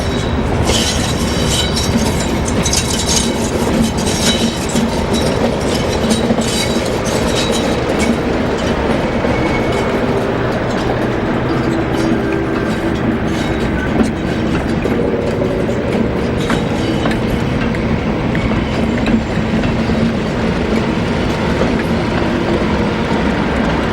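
Classic diesel locomotives 37688 and 37069 top and tail a train out of Barrow Hill toward Crewe Gresty Bridge, their engines a loud, steady roar with rhythmic wheel clatter on the rails throughout.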